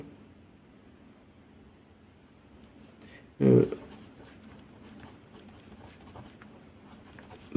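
Pen or pencil writing on paper during a Class 10 maths lesson, a soft continuous scratching with one brief loud knock or thump partway through, close and fairly quiet.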